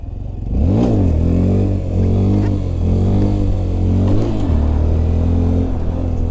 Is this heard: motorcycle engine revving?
yes